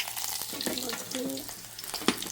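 Green chili frying in hot oil with popped mustard seeds, a soft sizzle with brief stirring scrapes, close by and fairly quiet.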